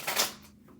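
Tarot cards are shuffled briefly, a quick soft riffling burst that fades within half a second, close and quiet with no talking.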